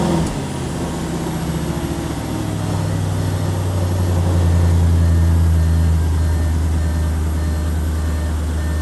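An Audi RS5 rolls slowly backwards with its engine running, a loud, steady low rumble that holds close and constant with no talking.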